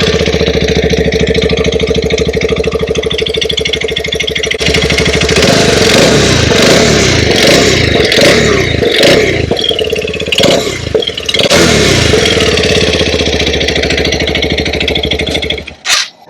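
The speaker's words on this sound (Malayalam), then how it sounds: "ഇതിന്റെ എക്സോസ് നോട്ട് ഒന്ന് കേൾപ്പിച്ചു തരാം." TVS Apache RTX 300 motorcycle running close up, a loud, throaty exhaust note that idles, then revs in a series of sharp blips and rises before settling, with no talking over it.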